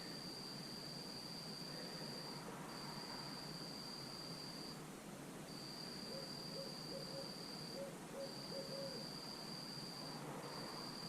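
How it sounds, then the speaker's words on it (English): An owl hooting outdoors at night, a faint, distant low call under a steady, high, pulsing whine, with no speech. "it sounded like the owl that was just hooting out there"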